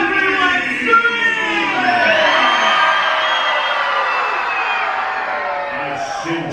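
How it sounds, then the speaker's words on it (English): Halloween party crowd on the Disney Wonder cruise ship screaming together, a loud sustained mass of shrieks and whoops that swells and then fades slowly over several seconds. "Let me hear a loud scream"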